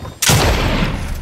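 A sustained burst of video game gunfire erupts suddenly and loudly, rolling on as a dense continuous rattle during a duo battle-royale match, with no talk over it.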